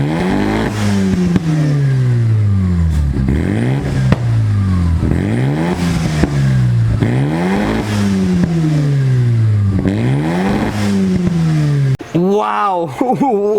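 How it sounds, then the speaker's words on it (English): Mazda RX-7 FD rotary engine fitted with a Kakomoto Racing aftermarket exhaust, revved repeatedly in loud, close rising and falling sweeps, each climb snapping back down with crackles before a final short blip. "this RX-7 already comes with an aftermarket Kakomoto Racing exhaust system, but still it does not diminish from the way this rotary engine sounds"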